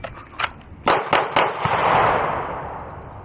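A Glock pistol is fired from the hip at a target about five yards away. Four sharp, loud cracks come in quick succession, the last ones close together, followed by a long, fading echo.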